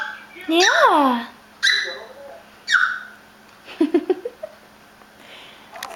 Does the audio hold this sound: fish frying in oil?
no